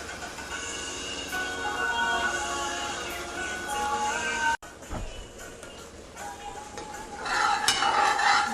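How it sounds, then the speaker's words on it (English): Jackfruit jam being stirred with a spoon in a heavy Dutch pot on a medium-high stove: a continuous scraping and bubbling sizzle, briefly interrupted, then resuming with louder clattering strokes. "I'm going to turn up the heat and keep on stirring this and watch it"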